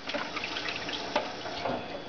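A tap runs while hands are washed, giving a steady close splash and trickle of water with small irregular bursts as the hands move under the stream.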